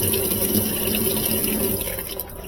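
A high-efficiency washing machine drum turns while water runs in to wet the clothes, giving a steady, loud rush of water that fades slightly near the end, with no voices.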